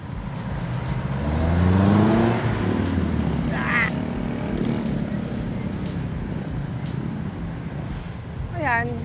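Heavy road traffic squeezing through a narrow bottleneck stretch of Commonwealth Avenue, with steady engine rumble, cars and motorcycles revving and passing nearby, and a voice talking over the noise.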